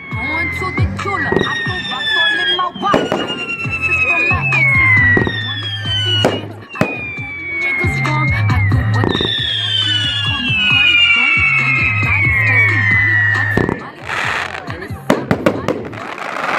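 A 35-shot 500g Ninja Air Support cake firework goes off in a few sharp bangs, largely buried under loud music with singing that plays throughout.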